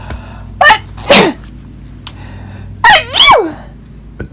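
Two sharp bursts followed by a wet, descending sneeze-like burst, close and loud, separated by brief quiet gaps.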